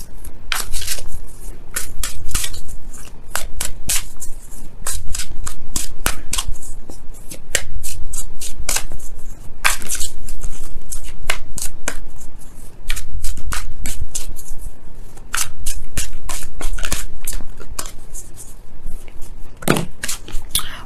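A deck of Wisdom of the Oracle cards is shuffled over and over, loud, close crisp riffles and snaps coming in rapid bursts with brief pauses between rounds.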